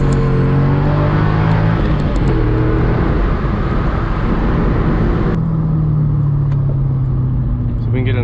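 A C6 Corvette with traction control off accelerates hard downhill from about 20 mph, its engine note rising in a loud steady pull and easing slightly midway, heard from inside the cabin with someone talking over it.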